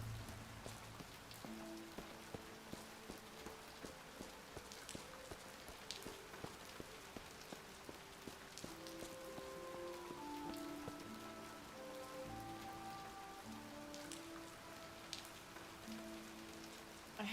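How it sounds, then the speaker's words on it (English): Steady rain falls in a video game, a dense patter of drops on surfaces running throughout, with soft tonal game music drifting underneath and no voices. "I hate when it rains in video games."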